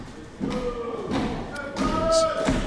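A wrestler's full body weight crashing onto an opponent's chest in a cannonball move, several dull thuds and impacts heard under crowd noise and ringside commentary.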